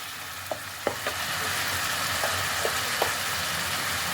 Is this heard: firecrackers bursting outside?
no